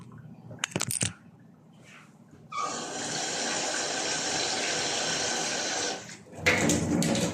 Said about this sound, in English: So I'm going to mix with water.